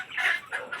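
Naturally raised farm chickens give a few soft, faint clucks over a short moment, with no talking.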